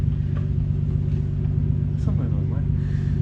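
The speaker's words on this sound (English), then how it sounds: "It's a launch control." A BMW E30 with a turbocharged M52 engine held on launch control gives off a deep, steady, throbbing rumble that stays constant throughout, with people talking over it.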